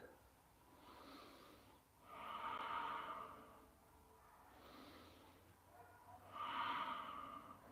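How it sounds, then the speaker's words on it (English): Slow, deep yoga breathing during a seated forward fold, with two long inhale-exhale cycles of soft airy rushes swelling and fading close to the mic, and no talking. "Breathe."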